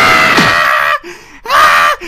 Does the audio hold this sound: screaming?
yes